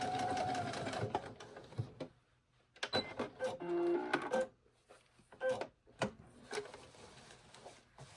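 A sewing machine stitching a jeans hem, whirring in several short bursts with brief pauses and a quick back stitch, close and mechanical, no voices.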